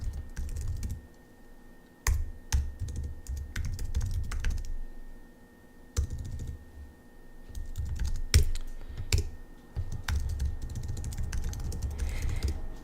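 Someone types on a computer keyboard, bursts of close, crisp key clicks with short pauses between runs, over a low background hum and no speech.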